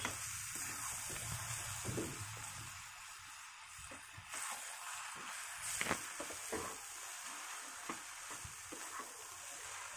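Carrot filling with chopped cashews sizzles steadily in a frying pan while a spatula stirs and scrapes at an uneven rhythm, close and moderately quiet, with no talking.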